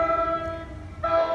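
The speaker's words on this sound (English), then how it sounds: "Another train coming to Anderson Street is headed to Hoboken Terminal." An NJ Transit train, an Alstom Comet 5 set hauled by a Bombardier ALP-45DP locomotive, sounds its chord horn twice while arriving at Anderson Street station, with a low rumble beneath and a short break between blasts.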